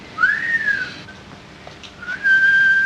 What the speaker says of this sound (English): Must be the whistle he swallowed 10 years ago